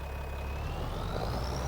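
Tractor engine in the Farming Simulator 25 video game, a steady close low rumble with a faint whine that climbs slowly in pitch, running alone without talk.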